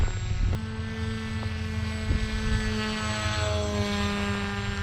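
An RC combat flying wing cut from pink insulation foam flies under electric motor power at about half throttle, its propeller giving a steady, tonal buzzing whine that holds fairly loud across the clip with no talking.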